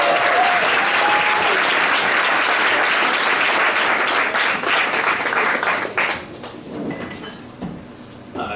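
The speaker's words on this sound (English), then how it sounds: "Round of applause for Damien." A crowd at a PK talk event gives a loud, sustained round of applause that holds strongly for about six seconds, then thins out and fades as the clapping dies down.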